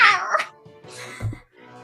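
Angry cat noises at a tabletop game session: a harsh rising yowl, then a growling mew and a low snarl in quick succession, loud and close, apparently a person's voice imitating an agitated cat.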